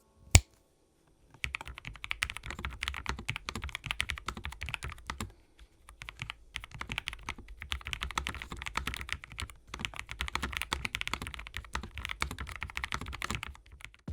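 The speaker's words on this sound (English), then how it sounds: "I just love the look, the feel of typing on it, the muted sound it produces" Continuous typing on a low-profile mechanical keyboard with retro keys, muted and soft-clicking, with a steady rapid rhythm of keystrokes and a brief pause partway through.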